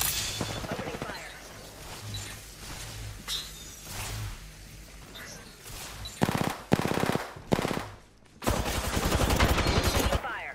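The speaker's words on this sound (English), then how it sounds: "Opening fire." Automatic weapon fire in the battle royale game Apex Legends, a long rattling stream of shots followed by short sharp bursts and a heavy final volley, loud and close, with game voice lines in between.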